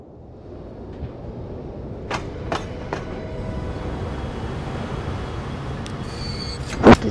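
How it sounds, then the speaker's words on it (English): A train departs in the rail simulation game Transport Fever 2: a steady rolling rumble builds, with a few sharp clicks and a brief loud burst near the end, and no talk. "There goes first train"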